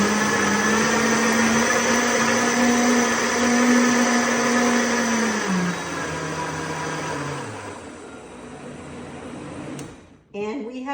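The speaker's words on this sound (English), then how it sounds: "The faster the speed of your blender, the smaller the pieces of food go." A kitchen blender pulverizes salmon, eggs and eggshells for homemade cat food, a loud, steady whirring motor that drops in pitch as the load thickens, then cuts off near the end, followed by a short clatter.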